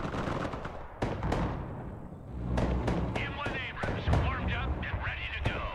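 Mortar and artillery fire thuds repeatedly in the strategy video game Broken Arrow, heavy booms and blasts layered with game noise while a player talks over them.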